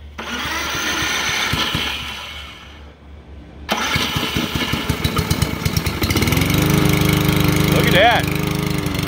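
Craftsman M270 self-propelled lawn mower being pulled to start on its first use. A steady engine tone drops, then the engine catches and runs loud and close, revving steadily.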